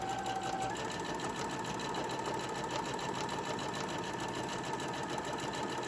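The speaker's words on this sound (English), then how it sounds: "I'm going to start stitching, do a little back stitch, making sure I'm all lined up" A sewing machine stitches fabric with a short back stitch for a decorative tissue gift pack, a steady close, fast whirring hum running continuously with no pauses or talking.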